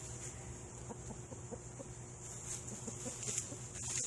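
Soft, low Wyandotte hen clucks, from an older hen about five years old, repeat at an easy pace close by, with faint background hiss and a few sharper bird calls near the end.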